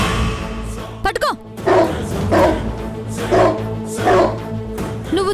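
A dog barks in a run of four or five loud, evenly spaced barks at close range, over a low background hum and a brief swishing sound.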